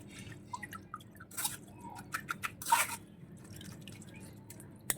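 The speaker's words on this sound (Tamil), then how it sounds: "மசிச்சு விட்டுக்கிறேன்." Grapes being mashed by hand for jam, with soft, quiet wet squishes and drips in an irregular rhythm, close up and without talk.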